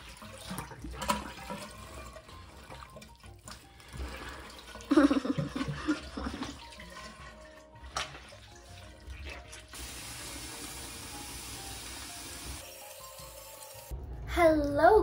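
Water drains and trickles out after soap is rinsed from fabric, a steady running sound with splashy bursts and a gurgling finish, no talk over it.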